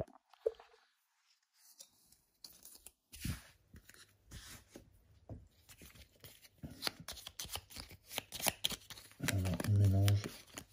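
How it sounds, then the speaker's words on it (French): A deck of game cards is shuffled during a Tokyo Sidekick tabletop game, with soft riffling and rustling bursts that build to a louder flurry near the end. Quiet talk is heard between the shuffles. "Alors, on mélange."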